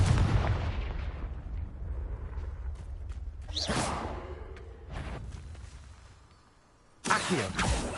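Spell blasts and explosions from the Hogwarts Legacy video game: a loud boom up front, then several sharp whooshing bursts and impacts, ending in a sudden bright burst of fire after a brief lull.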